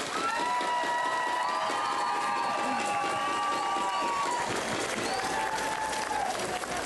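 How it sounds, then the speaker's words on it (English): An audience at a closing ceremony for an indigenous games event gives sustained applause for a Korean War veteran, a dense, continuous clapping mixed with crowd noise and scattered cheers, while whistling tones ring out over it. "Please give him a warm round of applause for all of his contribution."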